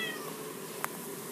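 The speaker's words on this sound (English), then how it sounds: "They're meowing each other." Kittens left by a road meow faintly under a steady background hiss, with one short, sharper sound standing out near the end.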